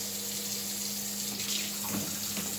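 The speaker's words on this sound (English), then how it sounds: "I'm going to rinse out my pan really quick." A hot pan from making shrimp hibachi is rinsed under a running kitchen tap, giving a steady, close rush of flowing water with no talking.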